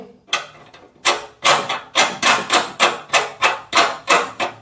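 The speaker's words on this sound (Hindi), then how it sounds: "अब यहाँ से इस बोल्ट को लगा देते हैं" A bolt is fitted onto a gas stove part, giving a steady run of about a dozen sharp, loud knocks or clicks at a regular rhythm, close up with no talking.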